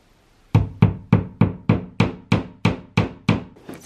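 Someone hammers a nail into a wall to hang a poster frame, about eleven sharp, evenly spaced blows in quick succession, close and loud with no talking.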